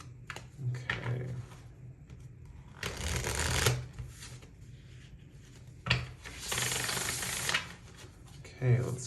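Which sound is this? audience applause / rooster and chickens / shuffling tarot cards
shuffling tarot cards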